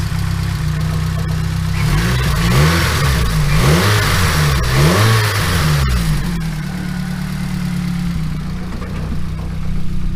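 A Nissan SR20DET engine, freshly reinstalled and with slightly loud lifters, idles and then revs in several swelling blips, loud and close, with surrounding parts rattling and no talking.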